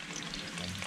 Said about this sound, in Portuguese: Já botamos o alho pra fritar.